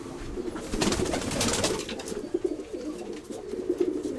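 Soft, low pigeon cooing repeats in a steady murmur against a busy, noisy background, fairly close and moderately loud throughout.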